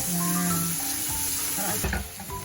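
Sardines with malunggay frying in a pan as they're stirred, a steady sizzle with a few soft scraping and knocking sounds from the spoon, close and continuous.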